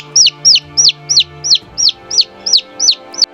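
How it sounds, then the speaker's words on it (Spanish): Hen and chicks in a farmyard give about ten high, clear peeps in an even, regular rhythm, close and distinct, with a faint low murmur beneath. "La gallina cacareó emocionada, mientras que los pollitos hicieron un tierno coro con sus suaves."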